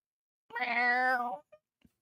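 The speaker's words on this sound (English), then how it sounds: "Who here has a cat that makes this noise?" A single drawn-out cat meow, close and fairly loud, with a rising then falling tone lasting about a second, followed by a soft brief click and near silence.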